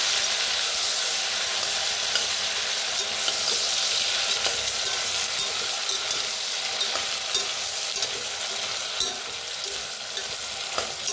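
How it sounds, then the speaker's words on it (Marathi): Eggplant pieces sizzle hard in hot oil over a tempering of asafoetida, a dense, continuous crackling fry heard up close with no voices. "छान असं तेलात भाजून घेऊया।"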